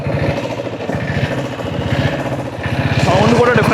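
A diesel-engined vintage modified motorcycle in Bangalore runs with a fast, even, thumping pulse that grows slightly louder near the end. Someone talks over the engine.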